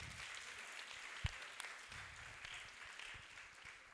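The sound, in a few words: audience clapping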